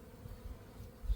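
Honeybees in a small backyard apiary hive early in the season, a low soft buzz from a small cluster, steady and close with slight swells in loudness, no voices.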